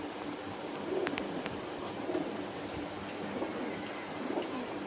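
Pigeons cooing in low, soft, repeated throaty bursts about once a second over a steady faint background hiss, with no talking.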